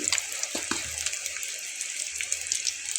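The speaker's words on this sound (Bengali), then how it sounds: "খুব সুন্দর করে পটলগুলোকে প্রথমে ভেজে নেব" Pointed gourd (potol) pieces frying in oil with salt, a continuous bubbling sizzle close by, broken by a couple of low knocks early on, with no talking.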